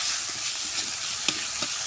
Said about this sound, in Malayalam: വഴറ്റി കൊടുക്കാം.